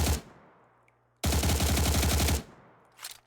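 Automatic gunfire from a weapon in a video game, a loud, sustained rapid burst of about a second lasting until near the end, preceded by a brief sharp shot at the start and followed by a fainter echo.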